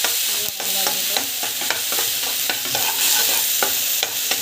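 Onions and freshly ground masala fry in a pan at home, a steady close sizzle broken by regular scraping stirs of a spoon against the pan, with no voices.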